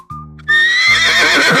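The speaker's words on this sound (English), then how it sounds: "Horse." A horse gives a loud, close neigh that follows a brief quieter tone and runs to the end of the short clip, with no talking.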